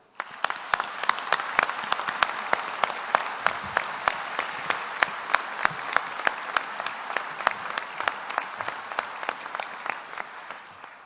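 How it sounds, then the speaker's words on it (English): Sustained applause from a large audience at a university graduation ceremony, steady clapping throughout with scattered louder claps standing out, fading slightly at the end. "I think we should give all our graduates a round of applause."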